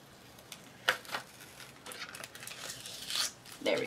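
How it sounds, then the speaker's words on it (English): A paper greeting card is being cut open by hand, with scattered crisp snips, crinkles and paper rustles close up, growing busier toward the end. "So I'm going to actually cut"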